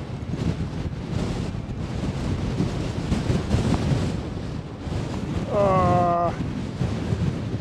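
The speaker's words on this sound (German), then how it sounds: "der Wind ist so kräftig, dass man sogar bergab treten muss" Strong wind roars steadily across the microphone of an e-bike riding uphill toward Reschensee on the Via Claudia Augusta cycle route, a constant loud buffeting rush, with a brief tonal horn-like note near the end.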